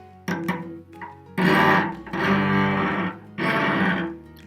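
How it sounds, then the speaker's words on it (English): A bowed string pressed too hard, giving a harsh, scratchy, grinding tone in several loud strokes separated by short pauses. "If you press too hard, you sound like this."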